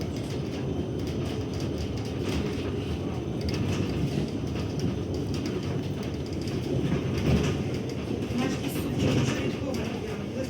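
A tram pulls into a stop in Lviv, its steady low rumble and rail noise filling the whole stretch, with faint crowd chatter during Independence Day celebrations.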